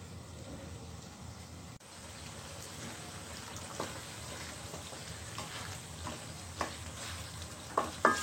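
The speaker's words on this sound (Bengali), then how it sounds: "আলুগুলোকেও আমি সেম ভাবে 2 মিনিট কষিয়ে নিব" Potatoes sauté in a pan while being stirred, giving a steady close sizzle with scattered scrapes and clinks of the spoon that grow a little louder toward the end.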